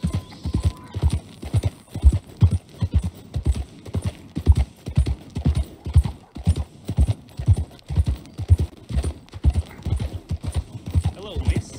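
A horse in Red Dead Redemption 2 runs with a steady, rapid rhythm of loud hoofbeats throughout, close and continuous, with a brief whinny-like tone near the start.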